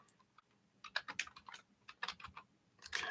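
Someone types on a computer keyboard in a quiet room, soft clicks arriving in uneven bursts and short runs, fairly faint and close.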